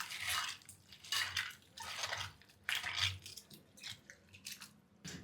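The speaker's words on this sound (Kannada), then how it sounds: "ಆಮೇಲೆ ಇದನ್ನ ಚೆನ್ನಾಗಿ ಒಂದು 2-3 ಸತಿ ತೊಳಿಬೇಕಾಗುತ್ತೆ." Chopped cabbage is washed by hand in a vessel of water, with bursts of sloshing, splashing and squishing that come and go in uneven strokes, close and fairly quiet.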